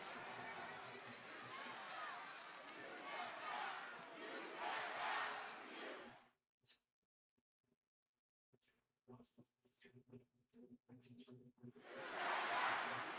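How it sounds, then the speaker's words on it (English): A wrestling crowd in an Indianapolis arena roars a loud taunting chant at Gunther, which breaks off into silence and scattered thuds before the chant swells again. "the crowd here in Indianapolis beginning to taunt Gunther with "you tapped out" chants"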